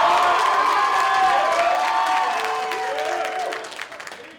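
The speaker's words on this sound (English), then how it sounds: "Give her one more round of applause." A school band audience gives a round of applause and cheering for a young saxophone soloist after her solo piece, a loud crowd of claps with whoops and voices that gradually thins and fades toward the end.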